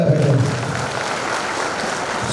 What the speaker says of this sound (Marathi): यांच्या ह्या प्रामाणिकतेसाठी एकदा जोरदार टाळ्या झाल्या पाहिजे